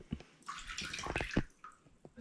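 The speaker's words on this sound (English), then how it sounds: "Pour some little water in it." Water is poured into a container for a pet bearded dragon's bath, a brief, quiet splashing trickle lasting about two seconds.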